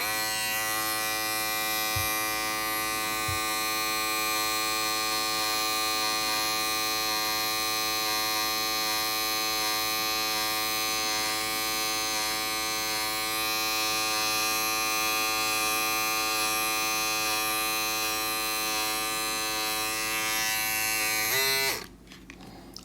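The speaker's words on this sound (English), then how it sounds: "So we're going to see how the precision trimmer works" An inexpensive precision beard trimmer buzzes steadily and loudly as it shaves hair off an arm, a constant electric motor hum lasting about twenty seconds before it switches off abruptly.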